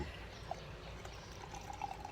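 Fizzy Flanders-style beer from Nickel Brook pours into a glass with a soft, faint trickle and a light crackle of bubbles, quiet and close with no talk.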